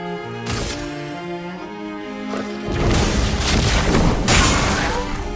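Grenade blast in the video game Expedition 33, a loud booming burst that rises from quieter tonal game music into sustained crashing noise with a second heavy impact near the end.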